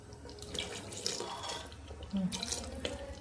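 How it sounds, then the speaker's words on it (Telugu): Water from a large glass poured into a thick brinjal curry gravy, a steady running splash with a louder gush near the end, close up and free of talk. "ఒక గ్లాస్ వాటర్ పోసిన అండి, పెద్ద గ్లాస్ సరిపోతుంది"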